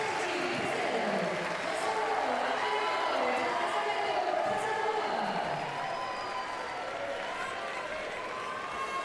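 A crowd at a Paralympic judo quarter-final applauds and cheers steadily, a constant wash of clapping and voices at moderate distance with commentary talking over it.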